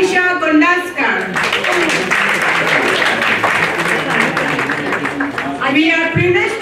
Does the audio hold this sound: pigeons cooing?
no